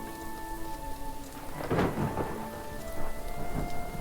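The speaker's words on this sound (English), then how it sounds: "Rain's still going." Steady rain pours in the video game Little Goody Two Shoes, with a rolling thunder crack rising near the middle and another rumble toward the end, all without speech.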